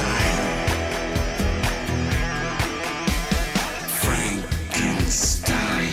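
A song plays, a busy, punchy mix of drums, bass and melodic lines at full, steady loudness with no talking over it.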